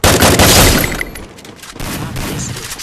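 Gunfire from a shooter video game lands a headshot: a loud burst of rapid shots in the first second, then a quieter stretch of game ambience with further faint shots and action.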